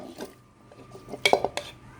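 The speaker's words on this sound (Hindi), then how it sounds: "कुकर में मैंने ये देखिए गोश्त डाल लेंगे हम कुकर में" Mutton pieces are dropped into a metal pressure cooker in a home kitchen, giving a few soft thuds and then several bright metallic clanks, close and alone.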